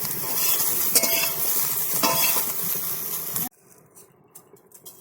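Cauliflower florets frying in hot oil for a small carp fish curry give off a loud, dense sizzle with occasional stirring scrapes, ending abruptly after about three and a half seconds into near silence.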